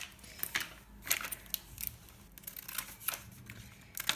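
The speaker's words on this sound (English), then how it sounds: "So I'm going to cut the roller skates out of the sheet." Scissors snipping roller-skate shapes out of a sheet of scrapbook paper, a series of crisp close cuts and paper rustles in irregular bursts, with no talking.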